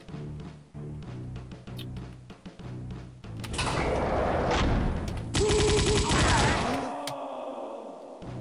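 Enemy gunfire in Wolfenstein 3D on Macintosh, a rapid run of sharp shots building into dense, loud bursts, with a voice briefly heard over the fire.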